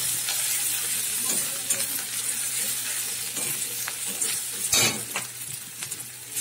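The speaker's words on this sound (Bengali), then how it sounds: "আদাটা একটু নেড়ে নিচ্ছি তেলের মধ্যে।" Grated ginger and chilli being stirred in hot oil, a steady bright sizzle with scraping strokes of a spoon and one sharper clatter near the end, close and alone.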